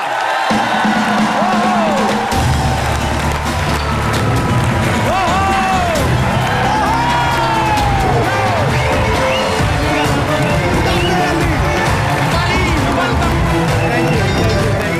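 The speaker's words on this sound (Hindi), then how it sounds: "एक बार जोरदार तालियों से स्वागत होना चाहिए" A loud, dense television studio audience roars and cheers with whoops over steady clapping, sustained throughout without a break.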